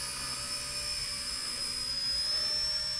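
An RC Era Baby Huey radio-controlled helicopter on a test flight after repair gives a steady, continuous high electric whine with a faint rotor hum, holding evenly at moderate distance throughout.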